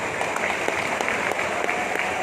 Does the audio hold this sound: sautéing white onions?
no